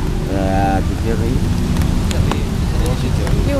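Rain pours steadily outdoors, a dense hiss of falling water throughout, with a brief voice and a few faint higher tones near the start.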